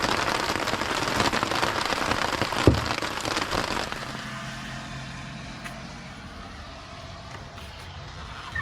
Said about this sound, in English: How do we survive the rain?